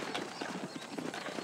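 Horse hooves clip-clop in the Western video game Red Dead Redemption, a quick run of close, fairly faint hoofbeats over a few seconds, with a soft whinny-like tone mixed in.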